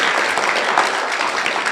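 Short round of audience applause at a literary evening event, a close, loud, continuous patter of many hands lasting under two seconds.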